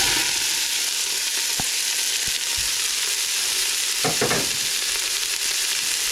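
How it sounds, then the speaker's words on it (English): Onion, celery and carrots frying in hot oil for a ham and bean soup give a steady, close sizzle, with a few sharp clicks and scrapes of stirring near the end. "I'm going to go ahead and add my 1 medium onion, 1 cup of celery, 1 cup of carrots."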